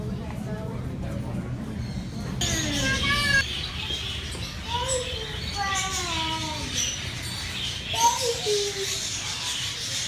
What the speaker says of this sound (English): Baby bird.